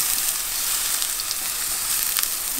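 Food frying in a pan, being browned until golden, gives a steady, close, loud sizzle with crackling pops and no pauses.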